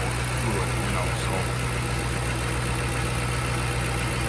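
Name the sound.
2010 Mustang GT power steering pump whining at idle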